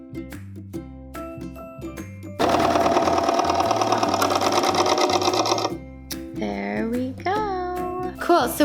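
A serger overlock machine stitches a hem on a large open sweater knit, a loud steady rapid whirring burst of several seconds between quieter clicks and handling, with some tonal background and faint voices near the end.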